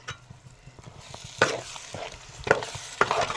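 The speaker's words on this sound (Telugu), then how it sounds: "ఇదిగోండి టమాటా ప్యూరీ చేసి కొంచెం ఆయిల్లో పెట్టి" Tomato puree frying in oil for a fish curry, a steady sizzle with several louder bursts as it is stirred, close and alone with no talking.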